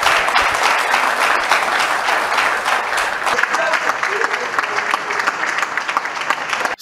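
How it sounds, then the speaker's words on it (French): Audience at a provincial governor's first press conference in Lualaba, DR Congo, applauding loudly and continuously, the dense clapping thinning slightly toward the end. "applaudissements de l'assistance."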